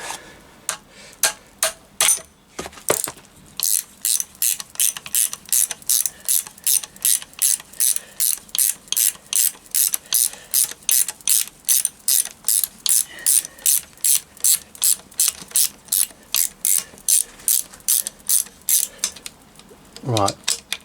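Rapid ratchet clicking from a socket wrench undoing crankcase bolts on a Triumph Bonneville T140 engine, dozens of steady, evenly spaced clicks close up after a few slower starts, ending in a brief scrape.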